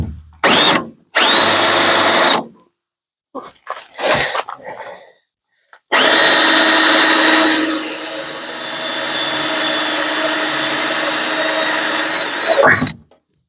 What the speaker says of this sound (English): the plan is to drill the rivet right here